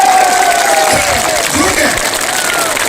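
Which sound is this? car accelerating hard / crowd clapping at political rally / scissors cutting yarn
crowd clapping at political rally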